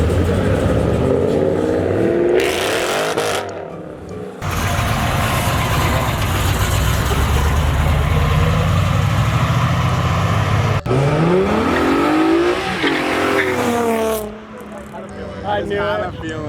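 Vortec V8 in a patina-covered pickup with exhaust dumped out the bed rumbles at idle, then climbs through several loud revs and falls back, while people talk around it.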